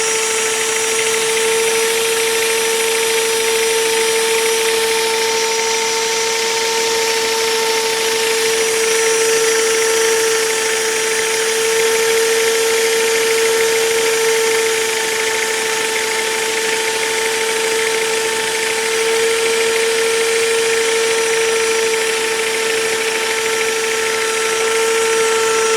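A loud, steady mechanical whine with a sustained high tone from a magnetic drill line boring, running continuously without pause; no one speaks.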